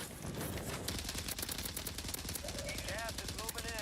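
Rapid automatic gunfire from a shooter in Call of Duty Warzone, quick repeated shots crackling in a steady stream throughout, faint in level, with someone talking over it.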